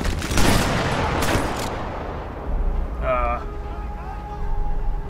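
Gunfire in the World War II sniper game Sniper Elite 4, with a burst of loud, close shots early on, then steady rumbling battle noise and further scattered firing, with a voice speaking briefly partway through.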